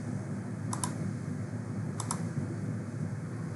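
Two quick pairs of computer mouse clicks, one near the start and another about a second later, tap crisply over a steady low room hum while stepping through a software installer.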